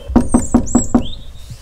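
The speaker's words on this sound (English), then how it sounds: "Should we knock?" Five evenly spaced knocks rap on the door of a barn in the woods, close and loud, with a short faint scrape trailing off afterward.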